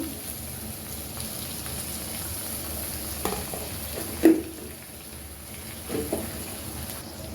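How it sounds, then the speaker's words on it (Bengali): Ginger paste frying in a pan as it is stirred, a low steady sizzle with occasional scraping knocks from the spoon, close and fairly quiet, with no talking. "হালকা নাড়াচাড়া করে মিক্স করে নিলাম"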